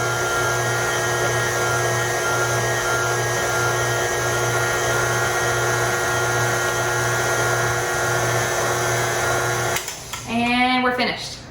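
Steady electric mixer whirring through batter with vanilla, a constant motor hum with a tonal whine that runs unbroken for about ten seconds before cutting off into brief speech.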